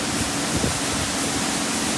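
High-pressure water spray from a wand at a self-serve 66 Suds car wash in Greensburg, a steady loud broadband hiss running unbroken throughout.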